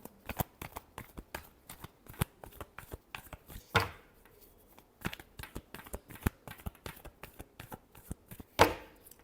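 Tarot cards being shuffled by hand in repeated quick riffling bursts with brief pauses between, close and fairly quiet, with two louder riffles standing out.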